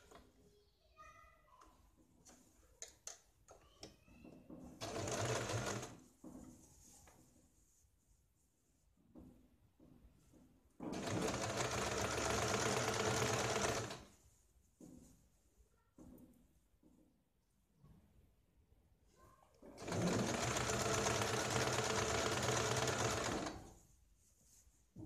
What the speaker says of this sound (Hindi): फिर इसके ऊपर हम सिलाई लगाते हैं।